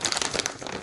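A plastic bag of frozen kebab meat crinkles and crackles steadily in close handling as it is pulled at, with no talk over it.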